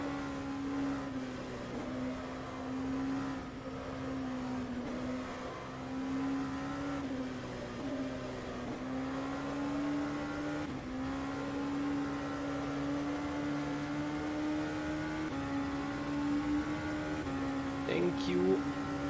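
GTE race car engines drone steadily in the rFactor 2 racing game, a sustained mid-pitched whine that rises and falls gently, fairly quiet and unbroken throughout.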